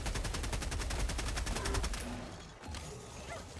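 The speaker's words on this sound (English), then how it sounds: "The fire shotgun's way better now." Fire shotgun in Helldivers 2 blasting in a fast, steady rapid-fire stream for about two seconds, then fading into a rumbling, crackling game din.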